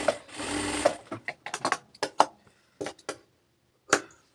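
A sewing machine stitching slowly around a kameez neckline: a short continuous run of motor whir, then a string of brief separate bursts and clicks as the fabric is turned, close up with no voices.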